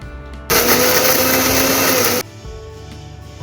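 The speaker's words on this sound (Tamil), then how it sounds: "இந்த சூப் மிக்ஸ்சரை மிக்ஸி ஜாரில் எடுத்துகிட்டு பிளெண்ட் பண்ணிக்கலாம்" A blender roars loudly for nearly two seconds blending sweet potato almond soup, starting and stopping abruptly, with quieter room noise before and after.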